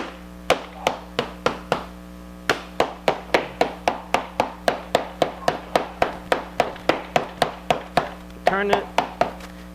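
A hammer strikes a foil pouch of Knorr rice sides again and again to knock it down and seal it for long-term food storage. There are about thirty sharp, close thunks in a steady rhythm, with a brief rustle near the end.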